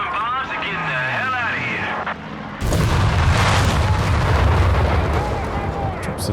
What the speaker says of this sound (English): Drops a dive bomb